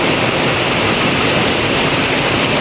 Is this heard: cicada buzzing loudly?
no